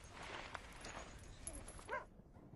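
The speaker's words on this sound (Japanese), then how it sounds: "これまで自由を奪われたこともつながれたこともない犬なのでかなり抵抗しています。" A dog never before leashed resists being led on a lead, giving faint yips and whimpers over low rustling, with a short sharp vocal burst near the end.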